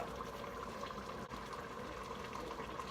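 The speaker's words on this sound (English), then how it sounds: "I'm adding some milk to my dumpling mixture" Milk is poured into a dumpling mixture for cabbage stew as a faint, continuous liquid trickle that runs steadily for a few seconds, alone and without talk.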